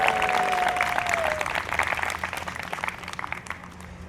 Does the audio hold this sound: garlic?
no